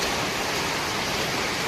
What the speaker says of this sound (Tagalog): Grabe ang ulan, lakas.